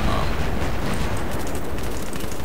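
Sustained, dense gunfire from the SAW light machine gun in the Battlefield 3 video game, a steady roar of rapid shots filling the whole clip loudly, with game noise and battle sounds underneath.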